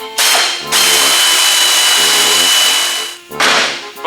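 A power tool tightens a door hinge bolt on an Oldsmobile Cutlass Supreme during restoration, giving loud continuous whirring that stops briefly near the end and then resumes in a short burst.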